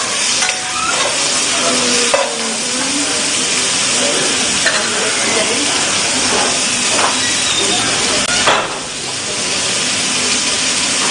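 Onions fry in a hot pan with a loud, steady sizzle and hiss, broken by a few clinks and stirring scrapes, while people talk in the background.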